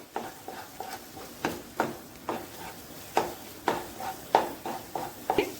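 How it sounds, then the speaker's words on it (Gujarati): Green gram paste roasting in a pan while being stirred: about a dozen rhythmic scraping strokes of the spoon against the pan, evenly paced over a soft background sizzle, close and fairly quiet. "હવે આ શેકાય ત્યાં સુધી આપણે એને હલાવતા રહીશું"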